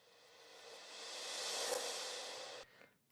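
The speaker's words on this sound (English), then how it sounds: "And this is the reverse into the crash" A backwards cymbal swell rises gradually to a peak, then a crash rings out and decays before cutting off sharply near the end.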